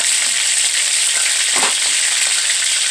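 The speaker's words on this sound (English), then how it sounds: "So I have some lightly salted wingdings that I'm searing on both sides." Lightly salted chicken wings sear in a pan with a loud, continuous bright sizzle, a brief stir or shift of the pieces near the middle.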